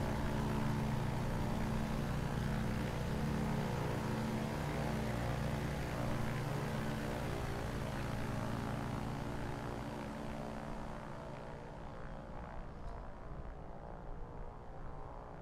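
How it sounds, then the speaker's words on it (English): A distant propeller plane drones past in Microsoft Flight Simulator over desolate northern Denmark bush country, a steady layered engine hum holding level for most of the pass, then thinning and fading slightly as the aircraft moves away. "I do quite like the sound of a distant plane. It is going past us."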